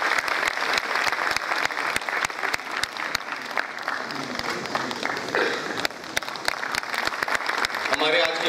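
Loud, sustained audience applause welcoming a chief guest at a university ceremony, dense rapid clapping from a large crowd close by, with a brief dip midway and some voices mixed in near the end.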